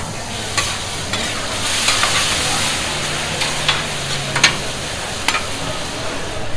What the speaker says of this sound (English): Mix those peaches in, all on that surface with all that brown sugar and cinnamon.